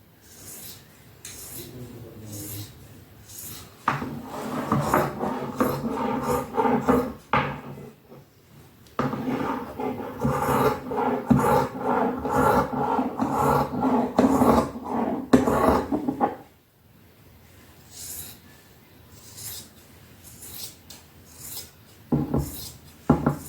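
Cloth for a heavy salwar is cut with scissors, giving repeated close snipping and rasping strokes in bursts separated by short pauses, with some handling rustle between cuts.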